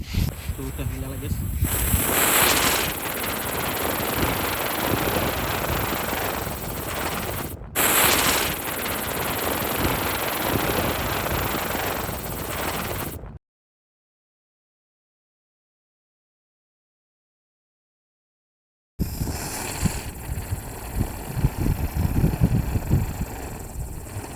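Loud, continuous crackling bursts of firecrackers going off close by on a spinning toy motorcycle wheel, a dense rattling barrage that breaks off abruptly, falls silent, then resumes.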